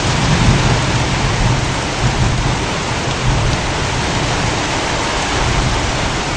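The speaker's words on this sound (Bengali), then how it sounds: "বৃষ্টি এখনো কমে নাই, বৃষ্টি হচ্ছে এখনো।" Heavy rain pours down in a loud, dense, unbroken wash that stays steady throughout, with no voices heard.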